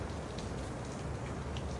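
Soft, steady rain falls in a continuous faint patter with no talking, a quiet even wash of drops.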